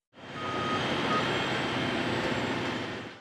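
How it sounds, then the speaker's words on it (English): A wheel loader, a heavy equipment vehicle for loading and transporting materials, runs with a steady loud engine roar while its reversing alarm beeps continuously throughout. "A wheel loader is a heavy equipment vehicle that's used to load and transport materials"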